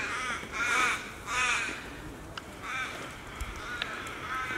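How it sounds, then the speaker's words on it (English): Crows cawing on a winter forest walk near Daylesford, several harsh caws in short bursts, fairly close, against faint outdoor background. "Hear the crows and..."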